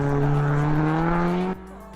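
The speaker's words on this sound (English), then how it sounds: "Gets on the gas and manages to hold a good bit of power all the way through the corner" A B-class race car at a Super Lap Scotland time-attack round powers out of a hairpin, engine note rising steadily and loud for about a second and a half before cutting sharply to a lower idle-like drone.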